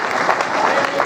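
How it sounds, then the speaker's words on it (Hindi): An audience applauds at a mushaira poetry gathering in Dammam, a brief, even burst of many hands clapping together at moderate loudness. "अगर तालियां ही बजानी है तो एक बार मिलकर बजा दीजिएगा, मुझे भी लगे।"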